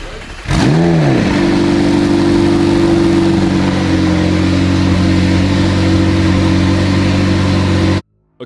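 A crash-damaged McLaren 720S engine cranks and fires up with a sharp rising rev, then holds a loud, steady high idle that drones on for several seconds before cutting off abruptly.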